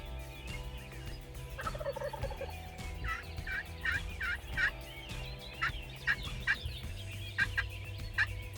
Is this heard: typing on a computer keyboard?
no